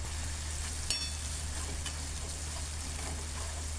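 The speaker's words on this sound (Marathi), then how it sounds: "अशाप्रमाणे हलवत हे मसाले सगळे भाजून घ्यायचे" Spice masala roasting in oil for a spicy jackfruit curry, a steady, close sizzle with a faint scrape of stirring near the start, running evenly throughout with no voices.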